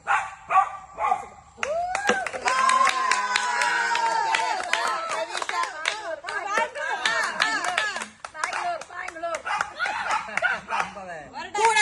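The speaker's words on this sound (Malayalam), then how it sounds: "കൈയടിച്ച് പ്രോത്സാഹിപ്പിക്കേ" A family playing a game at home claps hands in bursts of uneven sharp claps, mixed with excited voices, laughter and talk throughout.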